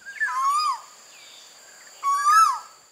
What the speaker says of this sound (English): It's an Asian quail.